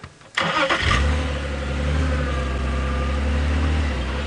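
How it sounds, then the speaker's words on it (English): A safari vehicle engine on a game drive road starts abruptly, then settles into a loud, close, steady rumbling idle. "I think I can hear a safari vehicle"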